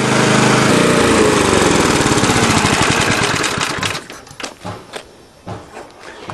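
A loud small engine of an older Briggs and Stratton lawn mower roars steadily for about four seconds, then sputters and winds down into uneven chugs and pops as it dies.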